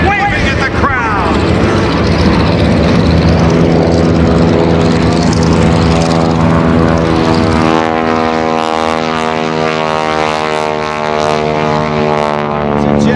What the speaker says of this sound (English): watch him as he rolls the airplane upside down, and Jane Wicker now sitting up and waving